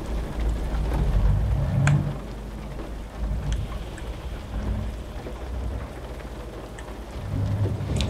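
Steady heavy rain with low rolling thunder during a storm in Euro Truck Simulator 2, heard from a Mercedes Travego coach, a continuous dense patter over deep rumbles that swell and fade throughout.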